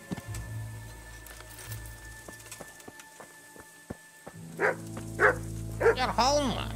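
A dog barks in the medieval game Kingdom Come: Deliverance, several sharp barks in the second half, loud and close after a stretch of quieter game ambience with horse hooves and a voice.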